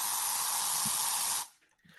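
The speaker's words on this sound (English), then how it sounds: "get that spray tan in there, baby" A spray tan sound effect plays as a loud, steady airy hiss for about a second and a half, then cuts off abruptly into near silence.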